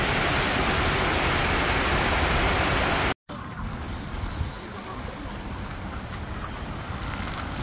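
Rushing floodwater surging up like waves after a brief rain in Kuala Terengganu, a steady dense roar that cuts out briefly before continuing slightly quieter.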